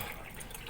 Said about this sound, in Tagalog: So, may nag-pour ta og tubig no.